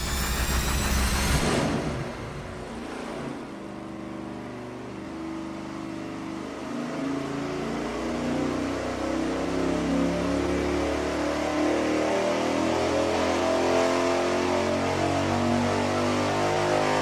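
A 5.7 Hemi V8 with a bigger cam swap and VVT limiter roars on an engine dyno, opening with a sharp rev burst, then holding a loud, sustained pull with rising harmonic engine tone close up and no talk.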